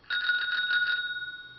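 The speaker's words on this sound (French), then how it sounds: "Alors j'ai mis une sonnette" A bell on an electric scooter rings in a quick burst of about six bright dings, then its tone lingers and fades, close and clear.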